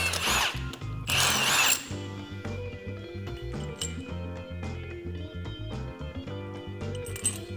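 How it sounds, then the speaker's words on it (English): A power tool backs a bolt out on a Polaris RZR during a portal gear lift install, two loud whirring bursts up front, then quieter mechanical rattling and metallic clinks continuing without any talk. "Let's remove this bolt in order to install our caliper mounting bracket."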